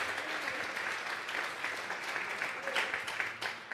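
Congregation clapping during a Sunday church service, a dense, sustained round of applause from many hands, fairly close and steady throughout.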